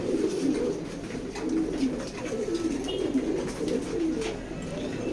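Pied checker racing pigeons in a loft coo in continuous low, rolling phrases, close and steady with no talk.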